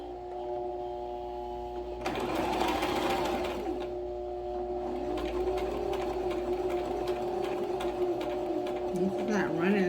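A sewing machine set to stitch setting 9 runs steadily from about two seconds in, its motor whirring with a rapid, even needle clatter close by over a low hum.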